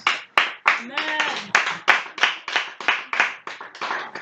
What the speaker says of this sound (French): Est-ce qu'on va acclamer le Seigneur Jésus-Christ?